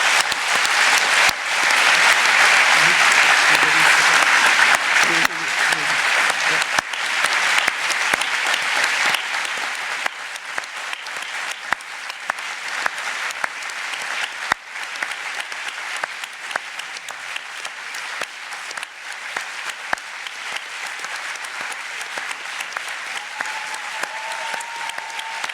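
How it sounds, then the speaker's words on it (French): Audience at a general assembly breaks into sustained applause, loud and dense at first, then thinning into scattered clapping that carries on to the end. "il y aura moins d'applaudissements sûrement"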